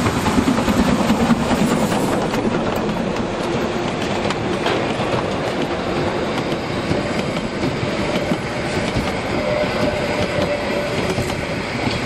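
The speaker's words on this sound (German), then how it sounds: "rollte der Zug endlich im schönsten Licht über die Hochebene" A Brocken railway special train rolls across a high plateau, with a steady loud rumble and rhythmic clickety-clack of wheels on the rails throughout, close by and with no talking.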